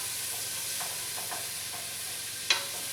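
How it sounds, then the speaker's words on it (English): Onion sweating in a soup pot, a soft, steady low sizzle with faint stirring scrapes and one brief sharp clink near the end, close but quiet, with no speech. "Give it a stir. Get that started. Don't need to caramelize, we just need to sweat the onion out a little bit."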